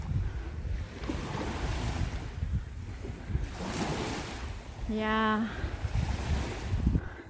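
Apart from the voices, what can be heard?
ocean waves at the beach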